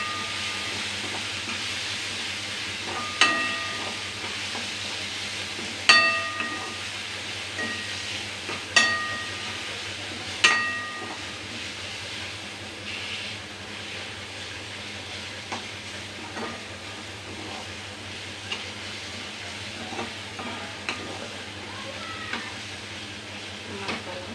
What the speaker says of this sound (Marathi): अद्रक लसूण पेस्ट होती ना ती पण छान भाजली गेलेली आहे